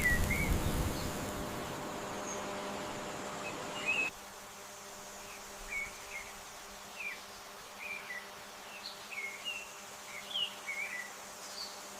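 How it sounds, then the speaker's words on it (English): Insects buzz around flowering coconut blossoms, with loud close buzzing in the first few seconds, then fainter intermittent buzzes and short chirps over quiet outdoor ambience. "local insects ensure the coconut flower is perfectly pollinated"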